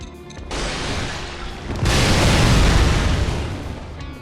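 A loud, deep video game explosion from Bloodborne booms and rolls into a long rumbling roar after a softer rushing build-up, then slowly fades.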